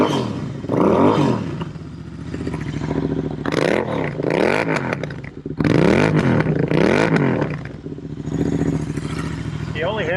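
A Royal Enfield 650 Himalayan motorcycle engine warms up, a steady running rumble with a few revving swells, heard throughout beneath ongoing talk from nearby people.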